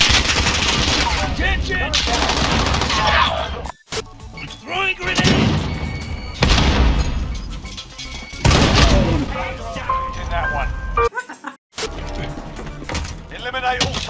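Heavy automatic gunfire and explosive booms in the Warzone video game, dense bursts almost continuous with brief gaps, a player's voice and in-game callouts talking over the shooting.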